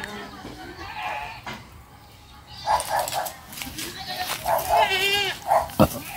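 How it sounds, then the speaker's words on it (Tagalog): Goats bleat repeatedly near the listener among farm animals, their wavering cries clustering in the second half of the clip, while people talk in the background. "Mga kambing at baka."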